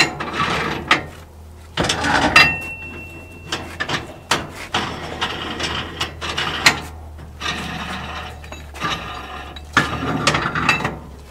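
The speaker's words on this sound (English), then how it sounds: "Just tighten with tie bars and plates." Tie bars and plates being tightened on a steel formwork wall system, giving repeated ratcheting mechanical clicks and metallic turns in bursts, close and fairly loud, with no talking.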